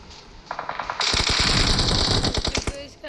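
Rapid automatic gunfire in the video game BGMI rattles in dense bursts, with a few single shots leading into a sustained loud volley that tapers off near the end.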